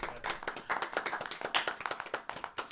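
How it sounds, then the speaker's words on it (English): Brief round of clapping from a small group after a first-day session, dense overlapping hand claps at close range, fairly quiet with no talk. "Can we do a round of applause for Stefan and Todd?"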